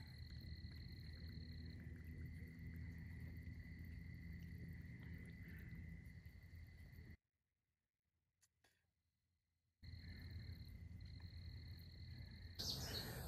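American toads call during courtship in a drainage ditch, a sustained high trill droning steadily alongside insect chirring, broken by a few seconds of silence before resuming; no talking.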